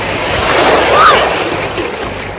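Ocean surf washes around a person standing in the water off Destin, Florida, a loud, close, continuous rush with a gusty, wind-buffeted edge, and a voice faintly present beneath it.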